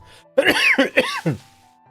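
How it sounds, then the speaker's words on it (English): A single throaty cough breaks into several harsh bursts, close and loud, then fades to quiet. "This cough sucks."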